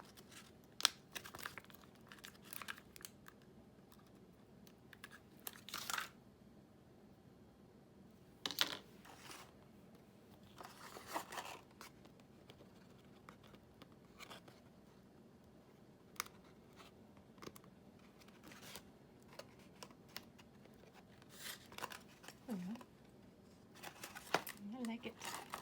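Paper being trimmed for a handmade heart-shaped paper box: scattered soft snips, crinkles and light clicks, faint and close, spread irregularly over a quiet room background.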